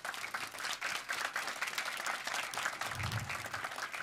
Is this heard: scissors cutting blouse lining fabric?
no